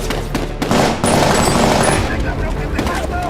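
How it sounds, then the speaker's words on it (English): Rapid bursts of blank-round gunfire ring out during a night stunt shoot for a film, loud close cracks in quick succession, with a voice talking over them. "So shooting blanks, which are just as loud as regular live rounds"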